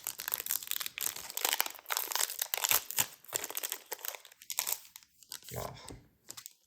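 Crinkly plastic foil of a Pokémon card booster pack being torn and crumpled open, with repeated rustling crackles in bursts across the whole stretch, close and moderately loud.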